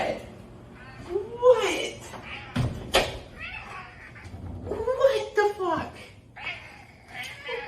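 A house cat meows repeatedly and insistently in the morning, drawn-out wavering cries close by, broken by a couple of thumps, with a person talking over parts of it.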